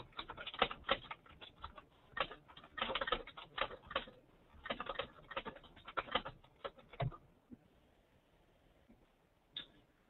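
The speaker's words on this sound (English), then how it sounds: "Let me just type a quick reply here." Someone types a quick reply on a computer keyboard in bursts of rapid, light clicking. The keystrokes are soft and close, with short pauses between flurries, then a longer quiet stretch and a single late tap.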